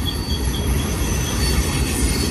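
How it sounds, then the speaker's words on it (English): A mixed freight train of lumber, bulkhead and tank cars rumbles past close by at Blue Cut, Cajon Pass, loud and continuous, with wheels squealing and rolling over the rails throughout. "Truly a mixed freight train here."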